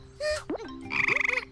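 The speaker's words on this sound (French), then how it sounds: "j'ai une grenouille de compagnie. C'est une rainette." A tree frog croaks in two short bursts, a brief call followed by a longer rapid pulsing trill, close and clear with no talking.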